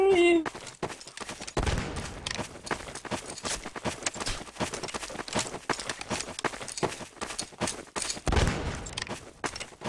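Civil War-era musket fire in Garry's Mod, a dense ragged volley of shots with hoofbeats and running footsteps mixed in, loud and continuous throughout.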